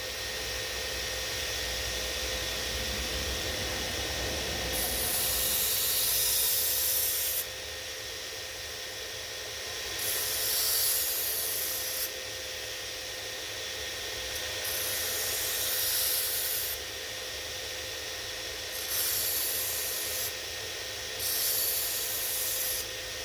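A belt grinder sharpening a knife: a steady motor whine, with a brighter grinding rasp about every four to five seconds as the blade is pressed to the belt.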